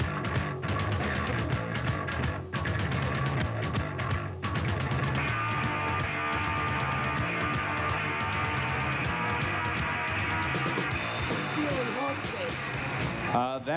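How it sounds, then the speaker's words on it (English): Loud, dense punk rock from the early 1980s, with distorted guitars and driving drums playing continuously at full volume, and a voice or vocal element running through the mix. "That's the sound of punk rock,"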